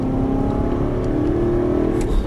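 Aston Martin V8 Vantage at full throttle on a track at Dreux, a loud, close engine note climbing steadily in pitch under sustained acceleration.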